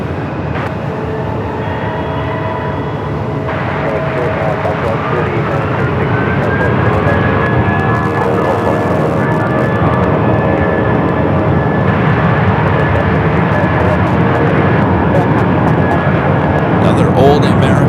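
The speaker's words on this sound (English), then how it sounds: "Old America West A319." An Airbus A319 jet in old America West livery taking off, a loud, sustained engine roar with a rising whine that swells steadily, while radio voices talk over it.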